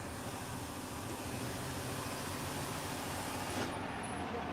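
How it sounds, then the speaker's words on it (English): A truck rumbles by outside a moving vehicle, a broad low roar holding steady over a few seconds with no voices. "Gosh, you hear that truck?"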